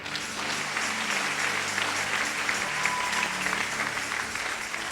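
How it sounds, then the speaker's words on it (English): Congregation at a Sunday church service clapping together in a steady, dense wash of applause that fills the whole stretch, close and continuous with no clear talk over it. "Clap for Jesus is done."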